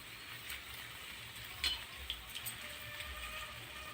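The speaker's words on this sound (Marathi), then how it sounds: "भाजीला छान उकळी आलेली आहे, शिजत आलेली आहे." Drumstick leaves boil in a pot of water with a soft, steady bubbling and sizzle, faint and fairly close, with a few small pops and clicks.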